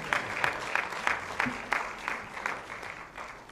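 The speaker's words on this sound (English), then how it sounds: "let's give God a clap and a praise." A church congregation claps in rhythm during a worship service, producing a steady run of loud, even handclaps from a crowd.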